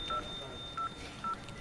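Telephone number being dialed on a keypad: three short, clear touch-tone beeps spaced apart, fairly quiet against a faint background hiss, with no speech.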